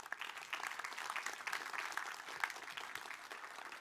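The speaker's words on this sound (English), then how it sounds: "is that polite applause or is that like enthusiastic Stanford applause?" An audience at the end of a talk claps steadily, a dense even patter of many hands at moderate volume with no break.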